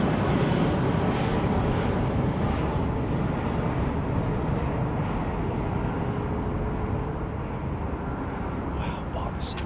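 Jet aircraft departing Heathrow airport fill the air with a continuous broad roar, loud and steady throughout, slowly easing toward the end, with faint talk beneath.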